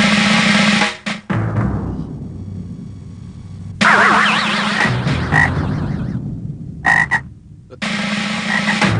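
A frog croaks loudly and close in repeated bursts, with buzzy rattling calls broken by short pauses and no speech.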